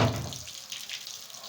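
Tap water runs into a container to be used for kneading atta dough: a brief, steady splashing stream with a louder gush at the start.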